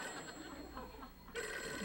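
A telephone bell rings in a 1970s TV sitcom scene, a bright electric ring that stops briefly and then resumes, heard at moderate volume over faint room sound.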